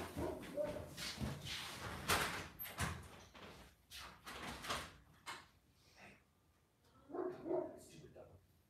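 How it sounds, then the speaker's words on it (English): A dog barks a few times somewhere in the background, mixed with door knocks and slams while a person keeps talking over it. "Oh, I hate dog barking."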